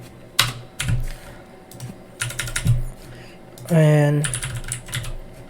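Test card details go onto a computer keyboard as clusters of quick, close key clicks at an uneven pace, with a brief electronic tone partway through and a voice heard faintly.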